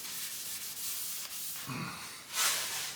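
Wax is rubbed by hand across the pitted, rusty cast iron table of an Atlas 10-inch table saw. The strokes are short and repeated, close and scratchy, with a brighter swipe near the end.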